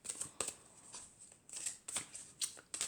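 Oracle cards of the archangel Michael being drawn and shuffled, giving several crisp papery swishes and slaps in an irregular rhythm, close and fairly quiet with no voices.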